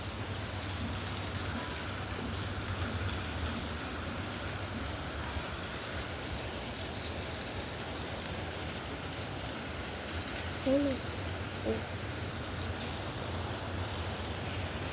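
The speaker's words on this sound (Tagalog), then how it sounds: "Ang lakas ng ulan" Steady, dense typhoon rain pours down continuously, a broad hiss of heavy rainfall with a brief faint tone near the end.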